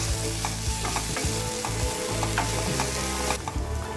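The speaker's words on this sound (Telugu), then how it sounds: "ఇవన్నీ ఒకసారి ఆయిల్లో ఫ్రై చేసుకోవాలి" Chilli powder, coriander powder and garam masala frying in hot oil, with a steady sizzle and stirring scrapes for about four seconds, near and continuous, no speech.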